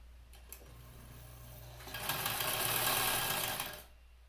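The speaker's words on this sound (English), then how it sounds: "I like the sound my machine makes" Sewing machine stitching lines along a pants waistband, a steady close mechanical whir that speeds up into a louder, busier run for a couple of seconds before stopping.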